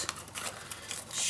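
Scissors snipping through paper while making a desk storage box, a few quick close cuts in a short burst with light rustling.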